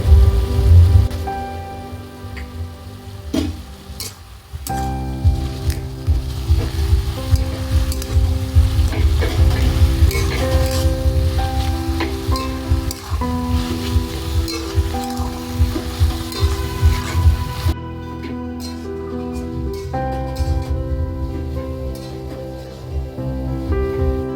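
Hilsa fish head fries with ginger paste, coriander and cumin for a bottle gourd dish, a dense crackling sizzle with clinks and scrapes of a utensil throughout.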